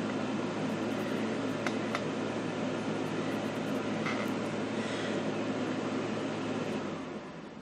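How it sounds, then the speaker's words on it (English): An air conditioner runs steadily through the whole stretch, a loud, even broadband hum with a low drone and a few faint clicks before it dips slightly near the end. "I hope you've been able to hear me with that air conditioner running."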